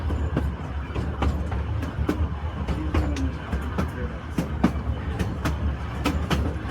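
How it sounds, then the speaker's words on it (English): Steady rhythmic clickety-clack of train wheels rolling over rail joints on a heritage steam railway, with a constant low rumble underneath and sharp periodic clicks. "sometimes it's just nice to listen to the train roll over the tracks"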